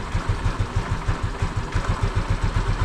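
A motorcycle engine idles at a raised, fast idle with a steady, rapid pulsing thump that stays close and even throughout, with no talking.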